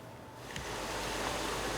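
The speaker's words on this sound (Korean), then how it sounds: "아, 물소리 좋다." A stream's running water rushes in a steady, close, broadband wash beside a 200-year-old zelkova tree in the Korean countryside, with no talking over it.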